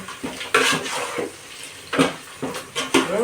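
Onions being stirred in oil in a biryani pot, with a ladle scraping and clattering against the metal pot in repeated strokes over a soft frying hiss, close and alone.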